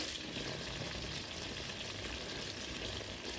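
Sago palm weevil larvae deep-frying in hot oil, a continuous dense sizzle and crackle held at an even level throughout.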